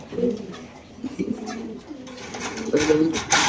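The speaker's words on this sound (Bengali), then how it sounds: "সবগুলো কোয়ালিটি ফুল কবুতর একই খামারের কবুতর" Soft racer pigeon cooing repeats through the clip, low and rounded, mixed with a busy background and some nearby chatter.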